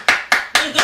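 Four crisp hand claps in a steady, even rhythm, close and loud, done in quick succession by what sounds like a single person.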